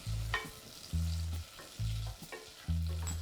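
Butter and brown sugar cooking down into caramel in a pan, a steady close sizzle with several bursts of stirring or scraping spaced about a second apart, with no voices.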